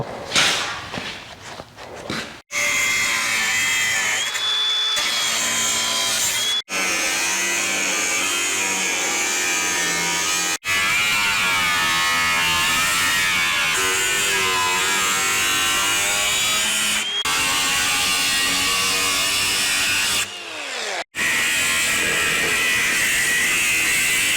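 A loud, high-pitched power tool whines through a Chevrolet Nova's metal quarter panel in long continuous cuts, stopping briefly several times before starting up again.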